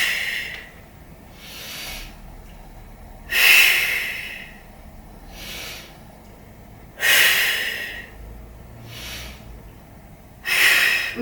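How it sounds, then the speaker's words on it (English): Slow, deep breaths in and out during a Pilates stretch, each a soft airy hiss close to the microphone, with three stronger exhales standing out in an even rhythm. "Breathe in, breathe out."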